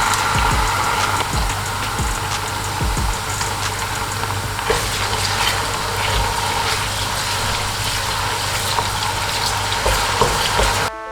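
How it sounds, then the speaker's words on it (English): Tomato paste frying in a pot for jollof rice gives a continuous loud sizzle and bubbling hiss, with occasional stirring scrapes and clicks, steady throughout with no voices. "I'm going to fry this tomato paste for about 5 minutes or thereabout."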